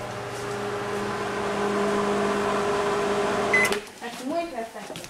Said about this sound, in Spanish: derrita la mantequilla en la microondas